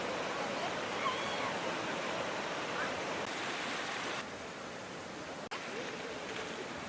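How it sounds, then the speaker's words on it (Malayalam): Vadattupara waterfall rushing, a dense, steady roar of falling water that fills the scene continuously with a brief break near the end. "ഇതാണ് വടാട്ടുപാറ എന്ന് പറഞ്ഞ നല്ല മനോഹരമായ വെള്ളച്ചാട്ടം"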